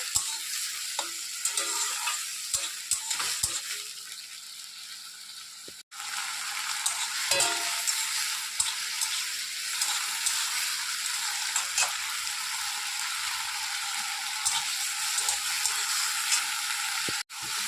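Spices being sautéed for a rohu fish and okra curry sizzle continuously in a pan, with a steady hiss broken by repeated spatula scrapes and taps as the mixture is stirred, briefly cut off twice.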